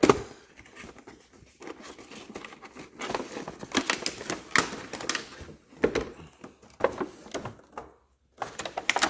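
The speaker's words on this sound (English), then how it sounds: "I'm going to cut this open, and let's take a look." Star Wars Black Series Emperor Palpatine figure packaging being cut and torn open, with crinkling plastic, scraping cuts and cardboard rustles close by in irregular bursts.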